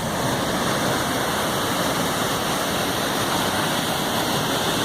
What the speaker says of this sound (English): You can see the waterfall joining it down there.